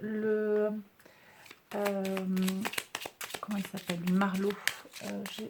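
Oracle cards shuffled for a card reading give a crisp, papery riffling and soft slaps that fall in the gaps of steady talk by a close voice.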